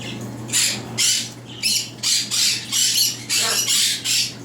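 Two young cockatiels, hatched in 2015 and recently weaned, give a close series of loud, harsh squawks in bursts of roughly half a second each, repeating steadily over a faint constant hum.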